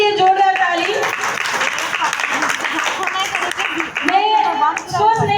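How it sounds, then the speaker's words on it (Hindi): An audience at a live program applauds, a steady burst of clapping with voices and cheers mixed in throughout. "एक बार इनके लिए जोरदार ताली"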